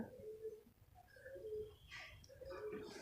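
A thin, weakened pigeon with a protruding breastbone that can no longer fly gives a few soft, low coos, faint and spaced apart against quiet room noise.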